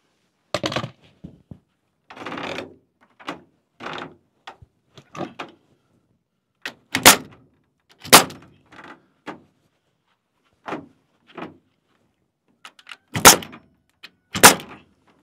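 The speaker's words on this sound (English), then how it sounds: "Hoping it's that cedar that's making this so creaky, because it didn't creak like this before" A cedar wood structure under construction creaks and knocks under load in a series of separate short creaks and sharp cracks, some loud and close, spaced irregularly with quiet gaps between them.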